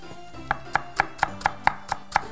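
A knife finely chops leeks on a board in a steady, quick rhythm of about nine crisp, close cuts, each a sharp thock, with no talking.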